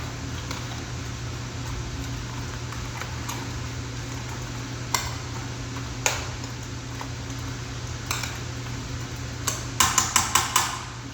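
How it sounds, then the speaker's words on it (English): Cheese tortellini pasta is stirred through sauce in a pot with soft, steady scraping and occasional clacks of the utensil, ending in a quick run of sharp taps against the rim. "Now we're just going to kind of stir those together to get all the pasta covered by the"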